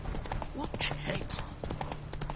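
Hooves of Roach the horse clip-clop quickly in The Witcher 3, close but partly under a voice, with a low game drone beneath.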